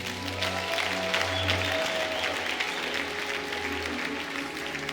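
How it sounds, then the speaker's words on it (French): A church congregation applauds in steady, dense clapping that stays loud and continuous throughout, with a low hum and murmur of the crowd underneath. "Acclamez pour vous-même."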